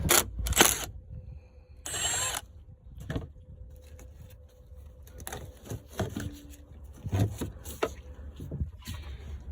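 A wrench loosening the 12 mm terminal nut on the 12V battery of a Kia Optima or Hyundai Sonata hybrid, giving a few scattered metallic clicks and ratcheting scrapes between quiet gaps, close and faint.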